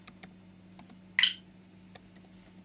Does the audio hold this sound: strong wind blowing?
no